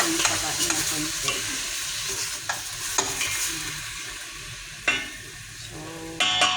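Pork for sinigang sizzles in a pan while a utensil stirs and scrapes it. A steady frying crackle runs throughout, with several sharper scraping clicks and knocks at irregular intervals.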